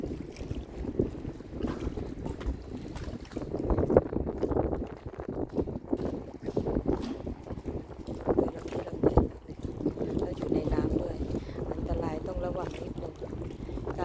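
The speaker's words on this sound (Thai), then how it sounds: "อาจจะมีเสียงลมนิดนึง" Wind gusting and rumbling across a microphone at a busy summer harbour in Nystrand, Porsgrunn, Norway, with boats around, a steady broadband roar that swells and dips without pause throughout.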